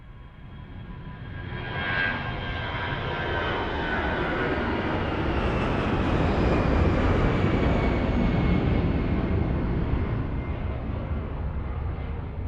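Airbus A320 jet taking off at Lisbon Airport, a steady broad engine roar that swells gradually and holds loud and sustained throughout, with a faint whine riding on top.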